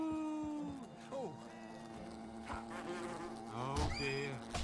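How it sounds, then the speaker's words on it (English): Wasps buzzing in Fable: The Lost Chapters, a droning insect hum with wavering pitch rising and falling around the fight, mixed with game sounds and someone talking over it. "They're wasps anyway."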